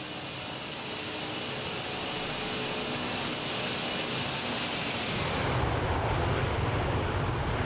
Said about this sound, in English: Let's do another flyby